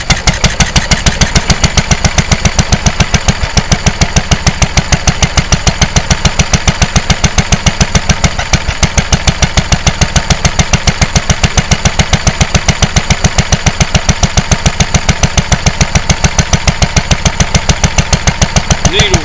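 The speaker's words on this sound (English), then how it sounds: "you'll see this little thing bobbing up and down as the engine runs" Lister D stationary single-cylinder diesel engine with a radiator, mounted on a cart, running at a steady idle, loud and close with a rapid, even thudding beat that holds throughout.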